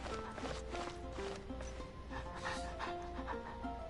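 A dog panting in Genshin Impact, quick breathy huffs mixed with game music and ambience and a possible faint bark.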